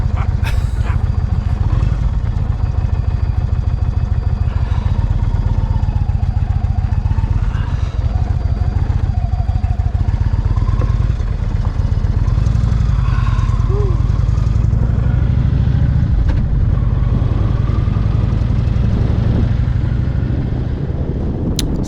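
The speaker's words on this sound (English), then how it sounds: "I got to turn around in this gravel. As you can see, it's not so easy with a 950-pound motorcycle" A heavy 950-pound motorcycle idles with a steady low rumble while it is slowly turned around on gravel, with occasional crunching and clatter and a rider talking over the engine throughout.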